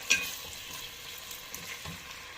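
Chopped onion fries in oil in a pan, with a close, even sizzle that holds throughout. A single clatter of the spoon comes near the start and a few softer stirring knocks follow.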